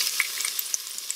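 Onions and garlic sautéing in oil in a pan, a bright crackling sizzle with quick spattering pops, close and continuous for a brief moment.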